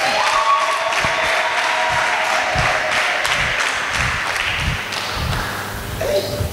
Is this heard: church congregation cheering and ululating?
yes